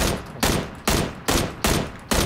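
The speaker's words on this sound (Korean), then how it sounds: "밑에서 쏜다, 밑에서 다른 팀이" Rapid bursts of gunfire in PUBG from another team shooting from below, five loud evenly spaced volleys each cracking sharply and then fading, close and continuous with no talk.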